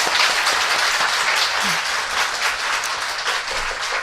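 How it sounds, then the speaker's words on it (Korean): A studio audience at a Korean talk show recording applauds in a long, persistent, even wash of clapping that keeps going at a steady level from start to finish. "굉장히 특이한 성격의 박수네요"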